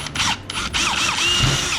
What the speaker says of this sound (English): you're gonna go ahead and drill the hole